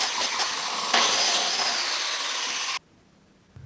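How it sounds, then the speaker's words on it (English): A biscuit joiner cuts a slot into a red oak board, a loud, steady high-pitched whine and rasp that runs for nearly three seconds and then stops abruptly, leaving near silence. "To help with some alignment, I'm using a biscuit joiner."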